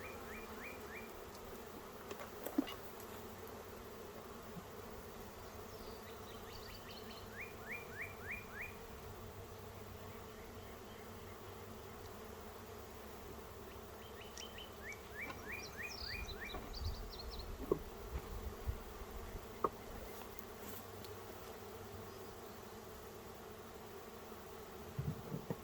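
Honeybees buzz around an open eight-frame hive being inspected after a swarm trap, a soft continuous hum with low rumbles and occasional bird chirps in the background.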